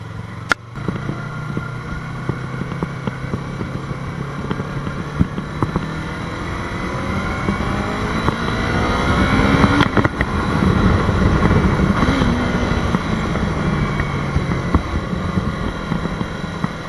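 A Yamaha R3 motorcycle engine drones steadily while riding through hills, its pitch rising and falling with throttle changes, loud and close, with wind rush and no talking.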